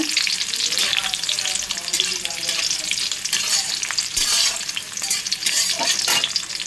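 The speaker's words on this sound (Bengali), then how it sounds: "একটু হালকা বাদামি করে ভেজে নেব" Rice fries in a pan with cashews and raisins until light brown for a Bengali basanti pulao, giving a loud, continuous close-up sizzle broken by frequent stirring scrapes, with no one talking.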